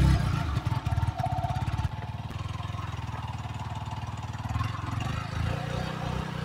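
A Bajaj Pulsar RS200 motorcycle, a 2024 BS7 model, runs close by with a steady pulsing engine thrum that dips and picks up again as gears are changed, with no clear speech over it.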